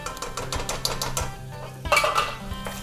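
Metal spoon scraping and clinking around a pot as flour and oil are stirred into a roux for hot dog stew, a steady run of close scrapes and taps with a louder clatter near the end.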